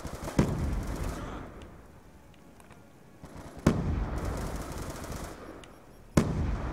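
Automatic gunfire in Black Ops 2 on PC, three short bursts of rapid shots, each opening with a sharp crack and trailing off, separated by quieter gaps.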